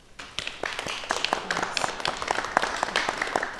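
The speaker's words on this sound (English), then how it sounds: "Give her a round of applause" A small studio audience on a talk show claps for a guest, a handful of distinct, sparse hand claps building slightly in density rather than a full roaring ovation.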